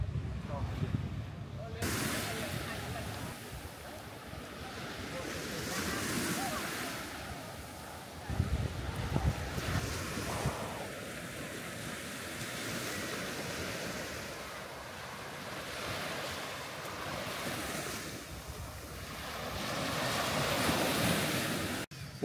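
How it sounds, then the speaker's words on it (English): Calm sea at Samay Beach on Koh Larn, Thailand, a crowded beach: steady soft surf washing in over the whole stretch with gusts of wind buffeting the microphone, fairly quiet and continuous. "And a nice calm sea."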